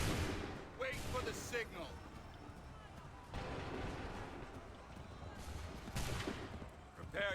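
Musket volleys in Assassin's Creed crack out as sharp, loud bursts of massed gunfire, with several staggered volleys and echoing reports over battlefield noise, while a voice speaks briefly.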